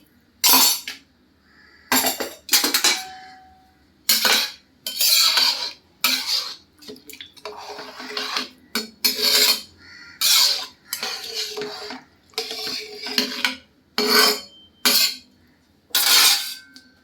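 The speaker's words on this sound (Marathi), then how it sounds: "मिक्सर आहे ते पण आपण जरा मिसळून टाकूया." Peas and rice mixture being stirred in a pot, a metal spoon clattering and scraping against the sides in repeated bursts of clinking strokes with short pauses between them, close and fairly loud, no talking.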